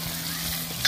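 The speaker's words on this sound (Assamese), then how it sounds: "পিঁয়াজ ভাজি আছে" Onions frying in hot oil over an outdoor picnic cookfire, giving a constant close sizzle with a small clink near the end.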